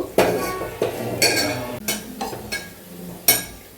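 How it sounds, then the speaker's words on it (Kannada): Masala frying in a pan, stirred with a metal utensil that gives repeated sharp clinks and scrapes against the pan every half second or so, close and fairly loud, with a faint sizzle underneath. "ಇವಾಗ ಆ ಮಸಾಲ ಹಸಿ ವಾಸನೆ ಹೋಗೋವರೆಗೂ ಒಂದು ಸ್ವಲ್ಪ ಫ್ರೈ ಮಾಡ್ಕೋಬೇಕು"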